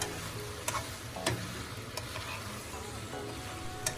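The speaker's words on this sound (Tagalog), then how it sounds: "Haluin lang ito ng dahan-dahan nang hindi masira ang gulay." Chicken and Baguio beans stirred gently in a hot pan, with steady close sizzling and frying, and sharp clicks of the utensil against the pan at irregular intervals.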